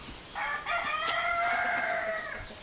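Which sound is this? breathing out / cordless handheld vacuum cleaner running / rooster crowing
rooster crowing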